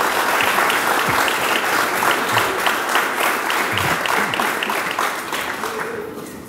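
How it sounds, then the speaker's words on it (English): Sustained audience applause fills the hall at an EMT graduation ceremony, dense steady clapping that holds strong before tapering slightly near the end, with no voices over it. "You give them a round of applause."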